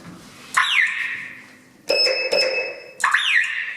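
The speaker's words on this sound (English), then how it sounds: "There's 2 different alarms. So when you're stuck in a lift, you can choose which alarm sounds better." Two different lift alarm tones sound in turn: a sweeping warble, then a steady high beeping tone pulsing twice, then the warble again, loud and close.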